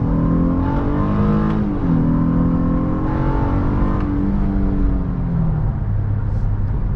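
Engine of a 2023 Honda Passport Elite V6 SUV pulling hard in second gear, heard from inside the cabin, a loud, rising drone that climbs steadily, eases briefly, then rises again.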